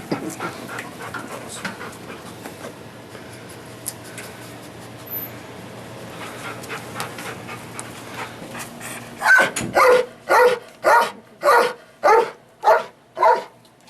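A police canine barks in a run of about eight loud, evenly spaced deep barks close by, after several seconds of quieter panting and low background noise.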